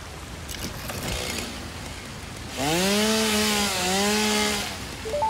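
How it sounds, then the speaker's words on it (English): Chainsaw in the video game Satisfactory revs up and cuts into alien fungus-like flora, a loud buzzing whine that rises, dips briefly and holds for about two seconds after quieter ambient rustling. "What if we chainsaw this thing?"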